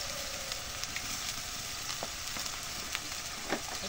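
Onion paste fries in hot oil in a pan, giving a steady, close crackling sizzle with scattered sharper pops and occasional stirring scrapes, and no talk.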